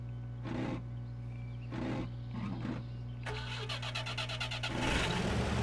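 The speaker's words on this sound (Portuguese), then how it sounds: "agora não quer ligar o motor" In the MudRunner video game, a jeep's engine cranks repeatedly without catching, with short starter bursts over a steady low game hum, followed by a rougher rattling turnover. A rumbling roar swells near the end.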